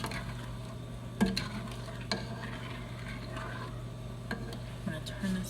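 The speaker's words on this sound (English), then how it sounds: "just gonna keep stirring this." Spoon scraping and stirring pecan praline in a pot with occasional clinks against the sides, over a low steady hum and faint bubbling.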